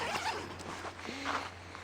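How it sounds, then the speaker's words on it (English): Clothing zipper pulled along its track on a trail hike, a quick rasping zip heard close and fairly loud, with faint outdoor background and no talk. "I think somebody stole your zipper, Luke."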